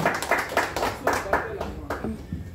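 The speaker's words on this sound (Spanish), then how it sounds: "Un aplauso bien fuerte, que se escuche para Santiago, sí, señor." Clapping at a birthday mariachi performance, a handful of hands beating in uneven bursts close by while a voice and a little background music carry on underneath.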